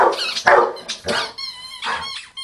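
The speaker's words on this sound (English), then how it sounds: "So why does he keep barking at your dad?" A big dog barking, a handful of loud, close, rough barks in irregular bursts with short gaps, ending in a higher whine-like tone.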